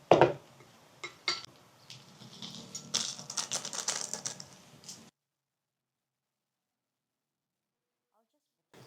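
Clinking and scraping of utensils against a plate as seasoning is mixed into 7-Eleven instant noodles, a few sharp taps followed by a burst of rattling stirring, with speech over it, then silence.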